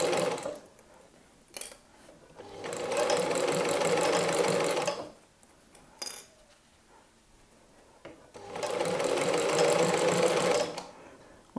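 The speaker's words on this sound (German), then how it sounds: "Und wir nähen das einmal ab." A sewing machine sews two fabric pieces together for a Halloween pumpkin basket, with two loud sustained bursts of stitching separated by quiet pauses and small handling clicks.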